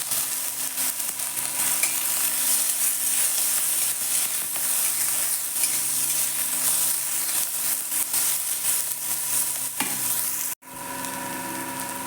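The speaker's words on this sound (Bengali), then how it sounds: "পেঁয়াজগুলো একটু ভাজা ভাজা হয়েছে" Chopped onion, garlic, chilli and ginger frying in a pan for a cauliflower paratha filling, a close, even, steady sizzle with faint stirring scrapes throughout, briefly cut near the end; no one speaks.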